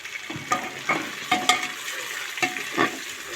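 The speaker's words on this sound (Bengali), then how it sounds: "পেঁয়াজের সঙ্গে আদা রসুনটাও অল্প করে একটু ভেজে নেব।" Onion with ginger-garlic paste sizzles in a pan for cooker biryani, with a soft frying hiss under several sharp scraping stirs of a spatula against the metal pan, then chopped tomato goes in.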